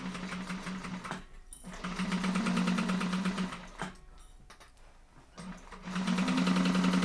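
Sewing machine stitching a seam up from the lining side of a bag: a close electric whir that runs in bursts, pausing briefly and restarting several times, moderately loud and alone.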